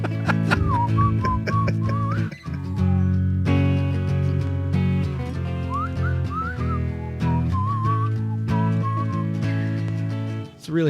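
A person whistles a very high, wavering melody in sustained notes over loud musical backing, with a brief dip partway through.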